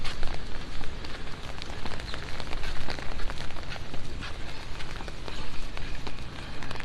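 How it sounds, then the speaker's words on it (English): Steady, dense rain hisses and patters on surfaces at Fort Myers Beach as Hurricane Ian arrives, with constant loud spatter and gusty swells and no voices. "Sounds like it's raining."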